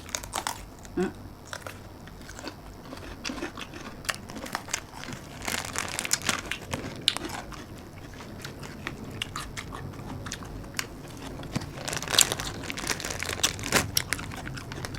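Chewing and biting on curry with cow skin, a close, quiet run of crunchy, wet mouth sounds and soft crinkles continuing steadily throughout.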